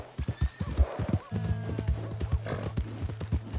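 A horse's hooves clop in a quick rhythm, then the horse gives a loud whinny over the clopping, in the video game Red Dead Redemption 2.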